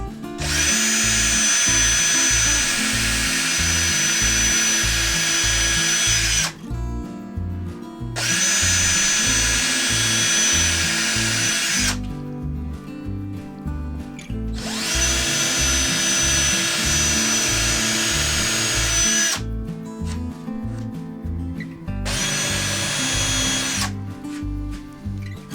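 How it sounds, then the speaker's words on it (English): Power drill fitted with a countersinking bit boring countersinks into plywood for screw heads, a loud close steady whine in repeated bursts of several seconds each, separated by short pauses. "the next step is to countersink, and as you can see, he's got a countersinking bit on there"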